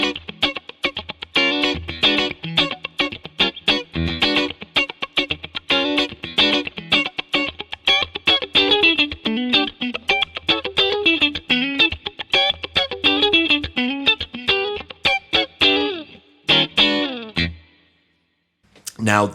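An electric guitar plays choppy funk rhythm through a light-gain amp and compressor, with slightly driven tone and tight, evenly compressed strums, ending in a brief pause and final chord.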